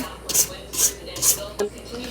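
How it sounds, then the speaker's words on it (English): A spatula scrapes down the sides of a mixing bowl of fluffy creamed pound cake batter, giving about four short, fairly close scraping strokes in a steady rhythm with a small clink near the end. "So I'm going to scrape my bowl down again"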